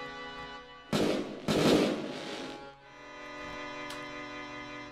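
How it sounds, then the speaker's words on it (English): Fireworks crackle and boom in the background of a video game scene, with two loud bursts around the one-second mark and a fizzing tail that fades under a steady music bed. "What's with the fireworks in the background?"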